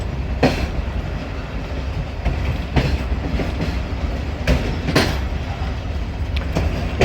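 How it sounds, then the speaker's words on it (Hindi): Passenger train pulling out of Jhalar railway station on the ML-2 line, heard from the last coach: steady rolling rumble with repeated sharp clickety-clack wheel hits at irregular intervals, alone without voices. "तो झलार रेलवे स्टेशन से हमारी ट्रेन का डिपार्चर हो गया।"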